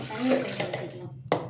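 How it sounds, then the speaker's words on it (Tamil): Water poured steadily into a pot while muskmelon juice is being made in a home kitchen: a close, rushing splash that stops abruptly, followed by a single sharp knock. "போதுமா தண்ணி ஊற்றணுமா"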